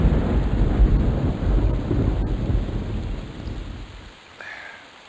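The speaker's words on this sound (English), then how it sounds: "It's raining on me as I'm trying to go through my bubbas." Steady rain with a low rumble of thunder in the EverQuest game world, a dense wash of rainfall that holds close and even, then fades out near the end.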